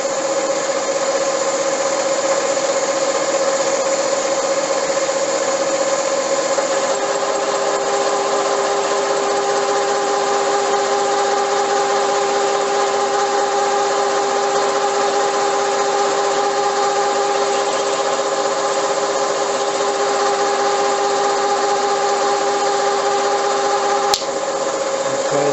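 A milling machine with a boring head takes a cut in a metal workshop, giving a steady, loud mechanical whine and hum with sustained tones that runs evenly throughout with no break.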